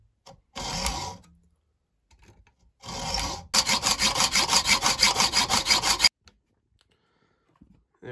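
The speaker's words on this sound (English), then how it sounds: "So now I just need to cut the head off this bolt." A bolt head being cut off for a brake caliper rewind tool: two short bursts of cutting, then a run of about a dozen rhythmic back-and-forth strokes, loud and close, before it stops.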